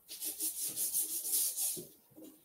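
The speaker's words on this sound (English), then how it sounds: "Your palm is one of the best sanding tools out there." Dry, steady rubbing of a palm sanding a surface by hand, a continuous hiss that rises and falls in rhythmic strokes with a softer, shorter pass near the end.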